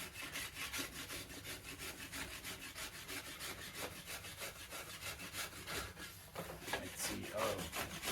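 A yew bow stave being scraped during floor tillering, giving a steady, close, continuous rasping rub of tool on wood with a regular stroke rhythm throughout, and a brief spoken remark near the start.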